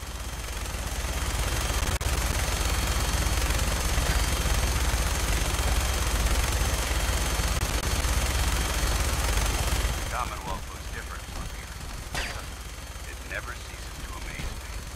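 Dense, continuous gunfire from the Fallout 4 game, loud and relentless for most of the stretch, then thinning into scattered shots and bursts near the end.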